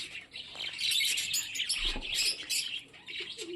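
Pet budgerigars chirp and twitter in rapid, bright bursts, several birds calling close by and overlapping continuously with no speech.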